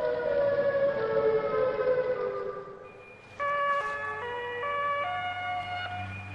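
Siren Head's siren call in a horror video game, a loud, sustained, wailing civil-defense-style siren with layered tones that shift pitch partway through and continue without a break, with a low rumble underneath.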